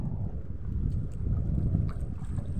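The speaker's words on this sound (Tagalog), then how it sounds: "Grabe lakas ng habagat." Strong monsoon wind roars over a small boat at sea off a Philippine island, with a steady low buffeting rush and wind noise on the microphone, loud and continuous throughout.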